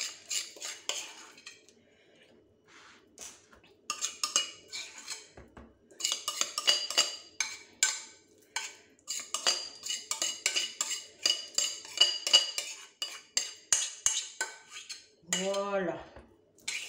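A spoon scrapes and clacks repeatedly against a bowl of vegetable cake batter, with a rhythmic series of close, sharp strokes building in pace, plus a brief rising squeak near the end.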